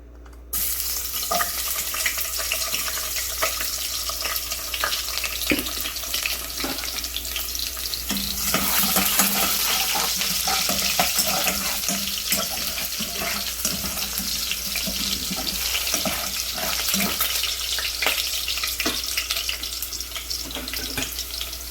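Garlic and then onion sauté in a hot pan, a loud steady sizzling hiss that continues without a break, with faint scrapes of stirring.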